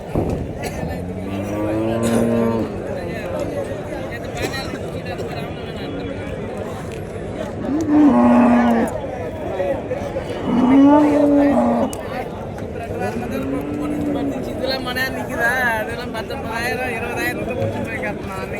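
Cattle and calves at a livestock market, with several loud drawn-out moos standing out over the crowd noise while someone speaks nearly throughout.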